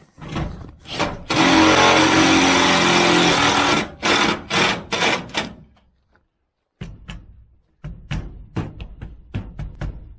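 A power screwdriver drives screws through siding on the front of a garage built from pallet racking, giving a long loud whirring burst followed by shorter spurts and a few clacks, close and without talk.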